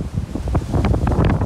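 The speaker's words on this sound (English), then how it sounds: "it's a bit windy" Gusty wind buffets the microphone on the open back deck of a ferry on a cold evening, a steady low roar with rustling bursts and faint water wash underneath, no voices.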